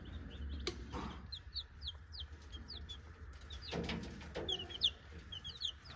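Chickens and chicks on a farm cluck and peep in scattered bursts near the microphone, with a few louder thumps and rustles.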